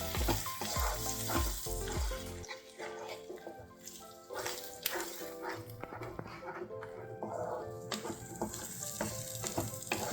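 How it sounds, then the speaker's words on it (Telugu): Spinach paste fries with onions in a pan over medium flame, giving a steady sizzle under stirring scrapes. A dog barks at the start, and there are some background clatters. "చూడండి ఇప్పుడు పాలకూర అంతనే ఉల్లిపాయ ఫ్రైలో మిక్స్ చేసేసుకుందాం."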